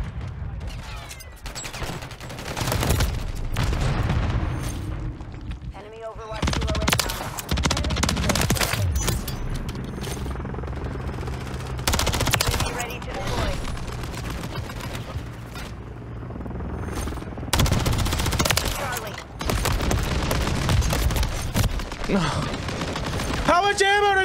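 A fast-firing gun in Call of Duty MW3 rips out long, loud automatic bursts, repeated several times with short pauses, over a busy multiplayer battlefield with a rotor-like hum and scattered mechanical clatter.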